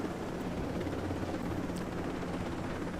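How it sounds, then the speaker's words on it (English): Helicopter in Ghost Recon Breakpoint, a steady dense rotor and engine roar from inside the cabin, constant and unbroken throughout. "we're getting ready to land the helicopter here"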